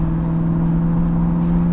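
A 2002 Chevrolet Camaro convertible with an LS1 V8 runs in a steady, loud, close engine drone with a strong even hum, held at a constant pitch without talk.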